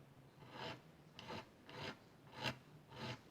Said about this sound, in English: So we'll have to do this by file.